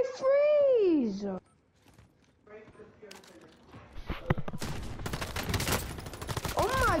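MP40 submachine gun fire in Call of Duty: Modern Warfare, with bursts of rapid shots crackling in the second half after a raised voice and some quieter scuffling.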